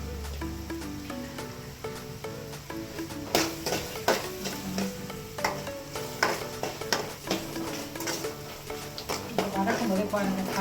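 Curry sautéing with ghee in a pan, with green turkey berries being stirred: irregular scraping and clinking of a spoon against the pan over a low sizzle, with music-like tonal bands underneath.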